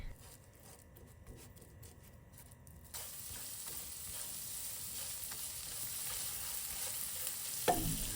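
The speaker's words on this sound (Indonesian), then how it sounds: "aku akan tumis bumbu yang sudah dihaluskan tadi" Ground spice paste and tomato sautéing in oil left over from frying shallots and shrimp, a steady loud sizzle with stirring scrapes, growing stronger partway through.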